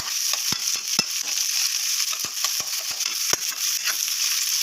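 Ginger and tomato sauté in hot oil for sinigang na bangus, a bright continuous sizzle broken by sharp spatula taps and scrapes against the pan at an irregular pace, close and clear.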